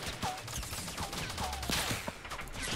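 Gunfire in the Fortnite Battle Royale video game crackles in scattered, rapid sharp shots over a busy game backdrop for a few seconds, fairly close and moderately loud.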